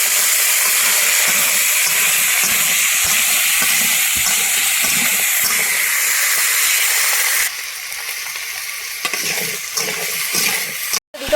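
Potatoes sizzle loudly in hot oil spiced with ginger, chilli and tomato as they are added to a pan, a dense continuous hiss that drops to a softer, steadier fry partway through, with some scraping of a spatula near the end.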